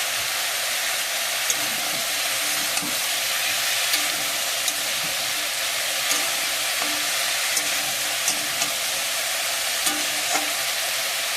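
Potatoes and leafy greens with salt and turmeric sautéing in a pan, a steady loud sizzle with occasional clicks of stirring throughout, no voices.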